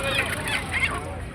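Honking calls of ducks and geese ring out close by amid country chickens at the Ranebennur poultry market, a few quick nasal honks over busy background murmur.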